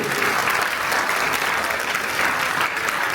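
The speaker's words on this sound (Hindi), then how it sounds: "तो सभी बच्चे एक बार मेरी तरफ से सरपंच आपको तालियां करेंगे" A group of children claps together in steady, lively applause, close by and continuous throughout, with no talking over it.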